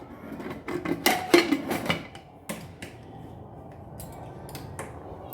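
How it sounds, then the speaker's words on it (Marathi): Metal pressure cooker lid set onto the pot and locked, close by: a run of clanks, scrapes and rubbing knocks over a few seconds, then quieter handling. "कुकरचं झाकण आपण लावून घेऊया आता"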